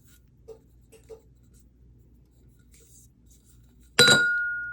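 A glass tumbler being handled for a sublimation print, with a few faint light taps and knocks, then one bright, loud clink that rings out and slowly decays, heard alone at close range.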